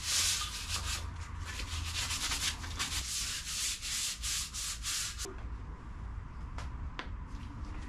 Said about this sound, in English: I'm just going to start by sanding these down